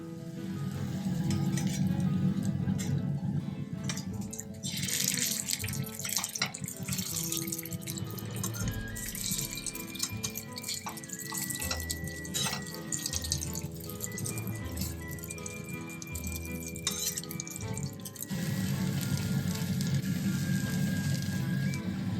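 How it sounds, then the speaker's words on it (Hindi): Thin-batter-dipped kofta shallow frying in a pan: a continuous close sizzle and crackle of oil, with clinks of utensils mixed in. "जो भी कोफ्ता है उसको इसमें मैं जस्ट डिप करके I will shallow fry this"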